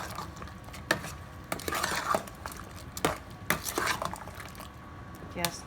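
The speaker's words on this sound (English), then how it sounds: "Let's mix." Utensil scraping and clinking against a pan while shrimp and vegetables in coconut milk are stirred, a steady run of close, sharp metallic clatters over a low background hiss.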